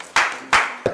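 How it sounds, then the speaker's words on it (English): Three sharp hand claps from an audience at a community event, spaced a few tenths of a second apart and fairly loud against a quiet room. "So clap for yourselves."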